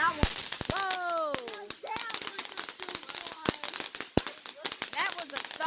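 Fireworks go off outdoors: whistling rockets rise and sharp, repeated bangs and thumps pop at close range, while children chatter excitedly throughout.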